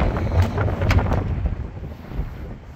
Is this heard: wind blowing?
yes